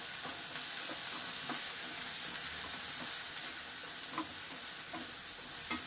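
Chopped banana stem and green chillies sauté in a pan with a steady sizzle and hiss, broken by occasional stirring clicks. It sits fairly close and even, with no talk.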